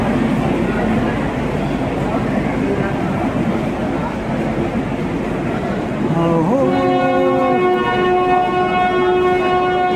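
A train horn sounds near the end, a sustained multi-tone blast over crowded station noise and chatter on a busy festival day, on the Kalyan–Pune line.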